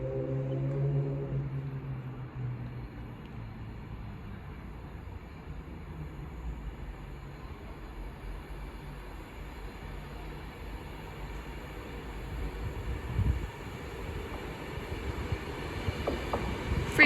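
An Avanti West Coast Class 390 Pendolino from Preston to London Euston runs past at Stafford on the West Coast Main Line. It makes a faint, steady rumble that swells slightly toward the end, with no talking.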